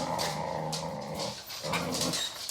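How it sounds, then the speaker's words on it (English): Dogs growl loudly and steadily up close at home, a rough, continuous rumble that runs for a couple of seconds with only brief dips in intensity. "It's not Sunday night without dogs growling and stuff."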